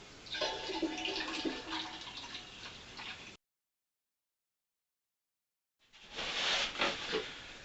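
Water being poured into a homebrewing vessel for hard cider made from store-bought juice, a steady close splashing hiss for about three seconds, then a pause, then a second short burst of pouring.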